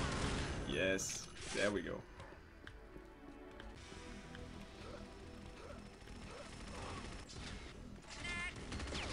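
Rapid pistol gunfire in the Unreal Tournament 99 deathmatch game on the DM-Agony map, several sharp shots over game sound and music, with someone talking over it.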